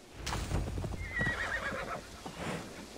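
A horse in the video game Assassin's Creed Valhalla gives a loud, close whinny with hooves clip-clopping beneath it, and no talking.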